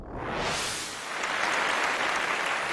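Applause from a studio audience on a Chinese TV antique auction show, right after a Republic-era Juren Tang famille-rose long-necked porcelain vase is presented; steady, dense clapping fills the room, close and loud throughout, with no talk.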